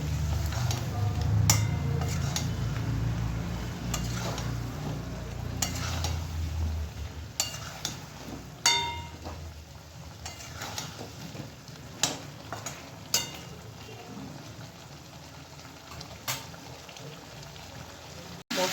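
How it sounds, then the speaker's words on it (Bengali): Spice paste with coriander and chili powder is sautéed in a pan for a snakehead fish curry with yam, a gentle bubbling sizzle with intermittent spoon scrapes and knocks, close and fairly quiet. "এক চামচ লঙ্কা গুঁড়ো মশলাকে এবার ভালো করে আমি কষিয়ে নেবো"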